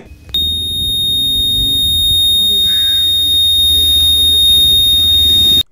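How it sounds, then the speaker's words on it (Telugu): A TVS XL 100 Comfort moped's side-stand alarm sounds a steady high-pitched buzzing tone that holds unbroken for several seconds, close and loud, with faint background noise beneath. "ఇది కాకుండా మనకి అలారం సౌండ్ కూడా ఉంది, ఒకసారి వినిపిస్తాను వినండి"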